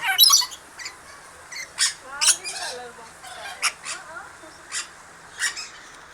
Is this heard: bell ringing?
no